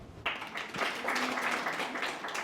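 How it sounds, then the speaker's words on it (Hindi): An audience in a spiritual talk session claps together, a dense, moderately loud wash of hand claps that starts suddenly and continues steadily for a couple of seconds. "इसके लिए ताली बजाओ।"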